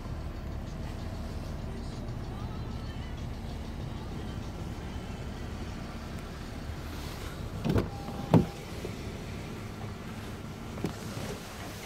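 Inside a 2014 Honda Civic Touring, a power window motor hums steadily at moderate volume, ending in a couple of short mechanical clunks and a click as the glass stops.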